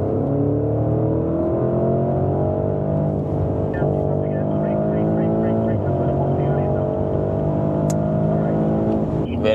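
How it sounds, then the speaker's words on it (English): A Porsche sports car accelerating out of a corner on a test track, a loud, steady engine drone rising in pitch through the gears with brief shift dips, heard from close up and alone. "Attack the apex and then accelerate."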